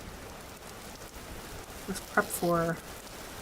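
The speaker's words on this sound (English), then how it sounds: "It's raining again, which is good." Rain falling in the video game Vintage Story, a faint, even hiss across the whole stretch while someone speaks briefly near the end.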